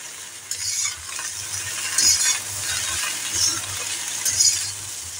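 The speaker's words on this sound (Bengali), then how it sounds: "এখন এটাকে ভাজা করব। ঢাকনা দিয়ে ঢেকে লো টু মিডিয়ামে আছে আমি ভাজা করে নেব।" Okra (bhindi) fries in a covered pan over low to medium heat, giving a steady, close sizzle with occasional stirring scrapes and light clinks throughout.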